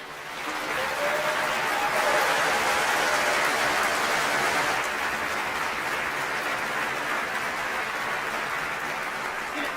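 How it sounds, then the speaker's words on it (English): Steady audience applause at a book award ceremony, the Minnesota Book Award, a dense wash of clapping that swells early and holds, with a few chuckles and murmurs mixed in. "One more time, a round of applause"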